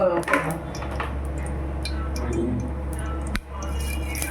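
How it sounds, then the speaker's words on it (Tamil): Mustard seeds and cumin spluttering in hot groundnut oil in a pan, a steady sizzling bed dotted with small pops and crackles throughout, with a louder snap near the end; a faint voice talks over it at times. "கடுகு ஜீரகம் இது வந்து நல்லா பொரிஞ்சு வரட்டும்"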